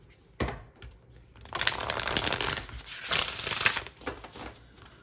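A deck of tarot-style cards is shuffled close by, a short riffle at first, then sustained papery flutters and snaps that swell and fade over a few seconds, with no talking.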